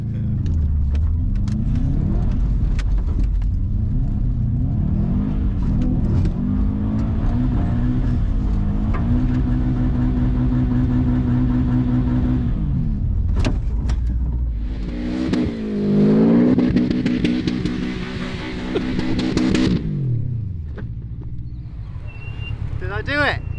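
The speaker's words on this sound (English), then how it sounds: "I think I almost did a donut then" A four-wheel drive car's engine revs hard and drones through a rising, falling roar during an attempted donut, with people talking over the loud, continuous engine noise.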